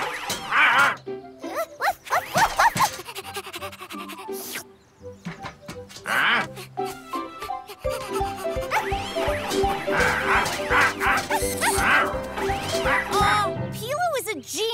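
Cartoon dogs bark in a rapid run of woofs, loud and close, mixed with excited character voices and busy music; a cartoon character voice imitates the barking.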